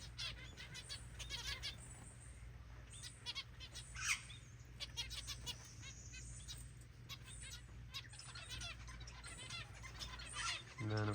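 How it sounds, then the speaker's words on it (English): Zebra finches and parrot finches chirp and tweet repeatedly in quick, scattered bursts over a steady low hum, calls overlapping at close range. "all the zebra finches hanging out over there."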